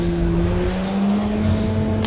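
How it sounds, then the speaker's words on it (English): Engine of a Praga R1 race car driven in the sim racing game Rennsport: a steady, loud, continuous drone with sustained tonal harmonics and no pauses, with no talk over it. "But it's just exciting to actually be driving a car that isn't a GT3."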